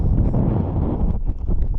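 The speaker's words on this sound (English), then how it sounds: "So we're pretty high up now. And it's really windy. Extremely windy." Strong, steady wind buffeting the microphone high up on a windy hillside beside a Toyota Tacoma off-road, a continuous loud low roar with no talk.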